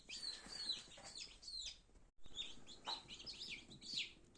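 Newly hatched chicks inside a Teplusha Lux 72-egg incubator keep up a dense, continuous chorus of high, overlapping peeps close by, broken only by a brief pause near the middle.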